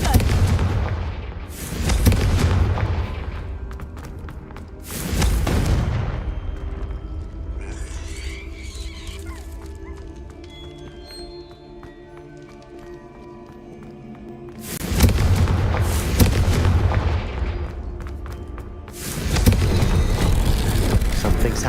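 Confringo fire spells explode in Hogwarts Legacy on PS5 Pro, several loud, booming bursts spaced across the stretch, with quieter game ambience rumbling between them.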